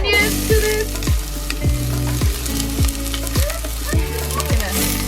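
Onions fry in hot olive oil in a pan, a steady close sizzle running throughout with repeated sharp pulsing clatters, while music plays over it.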